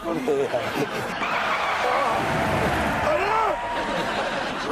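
A car driven fast with tires squealing and skidding in long wavering screeches over an engine roar, close and loud, while people shout and talk throughout.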